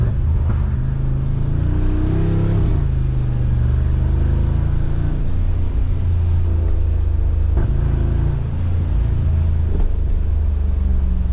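A 900 HP Brabus XLP 900 Rocket engine drives in first gear with a loud, steady deep rumble heard from the cabin. The engine note rises and falls slightly through several brief revs over about eleven seconds, with no talking.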